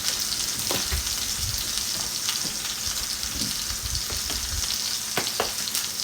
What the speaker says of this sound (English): So we're going to get this seared and I'll season it.